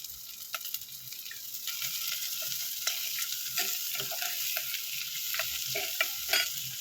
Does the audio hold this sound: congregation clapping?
no